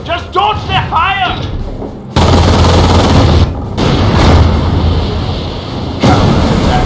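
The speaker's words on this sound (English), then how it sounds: "Barrage, on target! The whole area will be in flames." An artillery barrage in the World War II strategy game Company of Heroes hits as a loud, continuous roar of overlapping blasts and rumbling impacts, following a brief shouted voice at the start.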